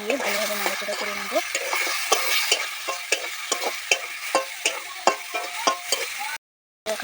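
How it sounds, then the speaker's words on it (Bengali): Tomatoes with chilli powder, turmeric and salt are stirred in a frying pan, a spatula scraping in quick repeated strokes over a soft sizzle, with a brief dropout near the end. "টমেটো দিয়ে ভালোভাবে নেড়ে নেব আমি এটাকে"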